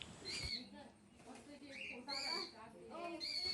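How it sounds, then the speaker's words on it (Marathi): Parrots at a countryside agro-tourism resort in Ratnagiri call out with repeated high, sharp shrieks and chirps in short bursts, fairly close, over steady outdoor background noise. "इथे पोपट पण आहेत आणि ते खूपच आवाज करत आहेत"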